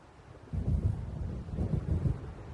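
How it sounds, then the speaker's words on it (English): Low rumbling thunder from an approaching storm in the video game Alan Wake Remastered, rolling in two soft swells over a faint background hiss. "It seems there's a storm coming."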